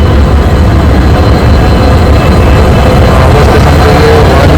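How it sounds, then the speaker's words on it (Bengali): Inside the 18011 Howrah–Chakradharpur Express running toward Purulia, a loud, continuous low rumble and roar from the moving train fills every moment, steady and unbroken, with no talking. "আজকে 18011 হাওড়া চক্রধরপুর এক্সপ্রেস"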